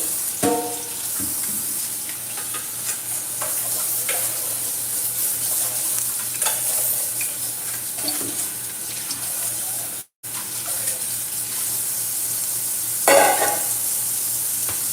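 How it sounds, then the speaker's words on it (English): Oil heating in a pan on a home stove, a steady close sizzle and hiss throughout with occasional light clatters and scrapes, one brief dropout, and no talking. "So I have the oil heating up"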